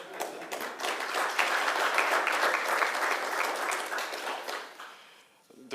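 An audience at a trade hub launch event in Gaborone breaks into sustained clapping that swells, holds dense and steady, then tapers off toward the end.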